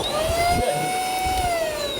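An Eysin V30 vacuum cleaner runs with a steady, loud high whine and a rushing airflow underneath, with no voices.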